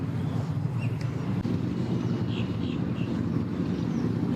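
A Sea-Doo personal watercraft heads out from a boat ramp, its engine a steady, moderately distant drone mixed with wind rush, continuous and unbroken with no voices.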